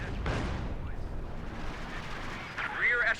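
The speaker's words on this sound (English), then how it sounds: "So he's bombarding with his SU." Artillery bombardment by an SU self-propelled gun in the World War II strategy game Company of Heroes 2, Soviets against Wehrmacht in a fight over fuel, with heavy booming blasts at a middle distance and a voice talking over them.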